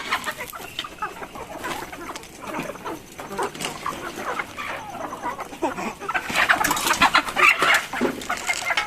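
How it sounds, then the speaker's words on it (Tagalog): A large flock of native chickens clucks and squawks in a busy, overlapping chorus nearby, with occasional sharper calls rising above the steady chatter. "ito naman yung mga manok naman namin. Ayun, napakarami nila."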